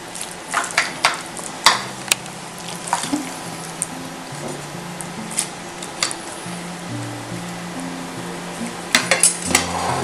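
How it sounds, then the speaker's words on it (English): Noodles are served onto a plate with utensils: metal clinks and scrapes of cutlery against a pan and dish, scattered sharp taps over a soft background hiss, close by. "To assemble it, you take some of the noodles for the bottom part."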